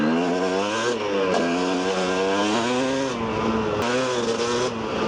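A KTM 250 EXC enduro motorcycle engine drones close and loud on a trail ride, rising and dipping through quick throttle blips and rev changes, with no voices.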